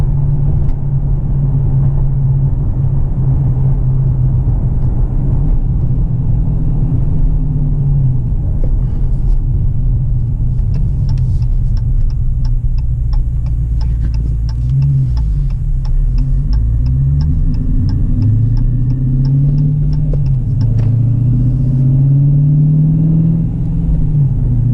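A 2018 Dodge Challenger R/T 392 with a 6.4L Hemi and an Airaid cold air intake idles in sport mode with a steady, loud low rumble. The pitch wavers and rises in short revs toward the end, and a light ticking runs over it.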